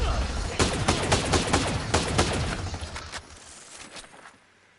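A tricked-out MK14 rifle fires in the video game Ghost Recon Breakpoint: loud, sharp shots in quick irregular bursts that thin out and fade toward the end.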